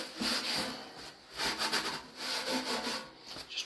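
A cloth rubs over a vintage metal fuel can being cleaned up with wax, making uneven scuffing strokes in quick bursts with brief pauses between them, close and alone.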